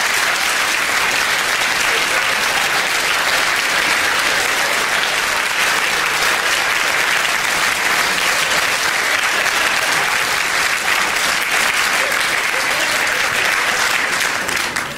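Sustained, loud audience applause greets a performer and his female vocalist taking the stage at a live Slovak show, a dense steady wash of clapping that runs for the full stretch without letting up.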